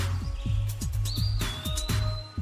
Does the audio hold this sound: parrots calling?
yes